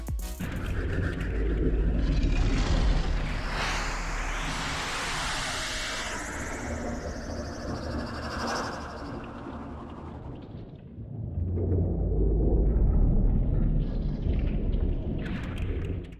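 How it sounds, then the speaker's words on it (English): Ambient audio from a Fortnite live event: a low, roaring rumble with airy whooshing, like something flying overhead, and rift noises. It fades midway, then swells again, with no one talking. "you can hear some weird ambient noises like something flying in the sky, as well as rift noises and a lot more"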